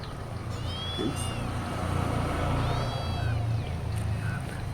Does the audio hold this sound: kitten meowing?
yes